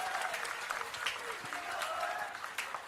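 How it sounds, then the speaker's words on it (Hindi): A crowd at a political speech in Delhi gives dense, continuous applause with scattered sharp claps, heard at a faint, distant level. "जोरदार तालियां बजनी चाहिए।"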